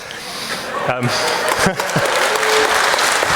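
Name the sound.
audience applause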